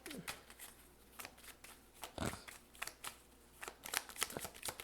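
Tarot cards being shuffled by hand in repeated quick riffles and flicks, a series of crisp papery bursts at close range, with no talking.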